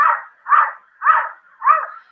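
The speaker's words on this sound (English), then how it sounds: "the cat acting like a dog" A cat lets out four evenly spaced, drawn-out bark-like cries, loud and close, each about half a second long with short pauses between them.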